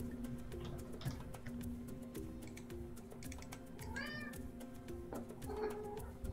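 A cat meows a few times at close range, heard over steady background game music and soft keyboard clicks, with no talking.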